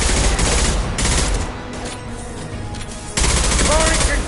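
A concussive shot ability in the Mass Effect game fires amid rapid combat gunfire, with bursts of dense, loud shooting broken by a quieter lull before the firing resumes.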